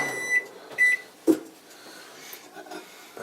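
A microwave oven runs while heating butter to soften it, giving a low steady hum under scattered beeps and clicks, with a sharp thump partway through in an otherwise quiet kitchen.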